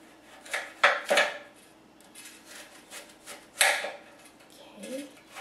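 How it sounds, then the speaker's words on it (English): A knife cuts an apple into thin slices on a cutting board, giving a few separate crisp, knocking chops with quiet gaps between them, close and moderately loud. "And we're just gonna thinly slice the apple."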